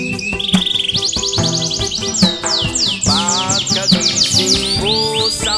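Birds sing in the morning, a dense run of bright, rapid chirps and rising, falling whistled phrases, loud and close, with no break across the few seconds.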